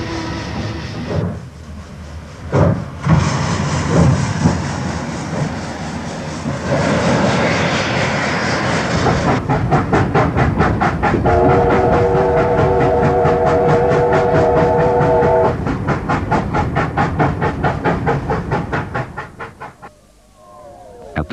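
Steam locomotive 3801 hauls the Western Endeavour train past in 1970, a heavy rumble with a rapid rhythmic chugging beat, loud and close, a sustained horn-like tone sounding in the middle before it fades.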